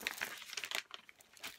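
Foil gift bags are handled up close, giving a continuous bright crinkling and rustling with rapid irregular crackles throughout.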